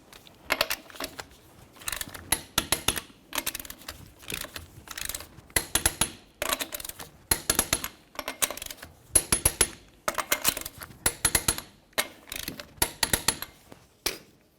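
On a Nissan Titan, a torque wrench tightens wheel lug nuts to 98 foot-pounds in a crisscross sequence. Repeated bursts of close metallic ratcheting clicks are separated by short pauses, with a sharp click at the end of several bursts.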